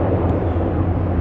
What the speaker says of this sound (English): You can hear the helicopters going by.